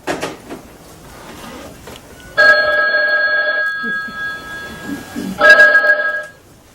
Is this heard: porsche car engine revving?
no